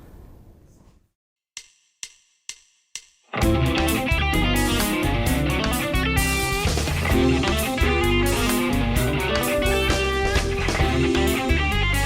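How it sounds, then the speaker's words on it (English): Electric guitar fusion arpeggio sequence lick climbing by semitones through minor seventh chords, played up to speed over a full backing track after four count-in clicks. "this is a sequence lick, uses basically an arpeggio that we're moving up through semitones."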